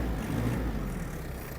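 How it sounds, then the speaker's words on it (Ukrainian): Yanmar FX-42 mini tractor engine revving up quickly, a loud, steady low diesel drone heard close for a brief moment with no talking. "Трактор дуже швидко набирає оберти."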